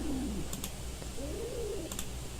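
An owl in the Cube Escape: Harvey's Box puzzle game gives soft, low hooting coos in two drawn-out phrases, with faint clicks and a steady background hum.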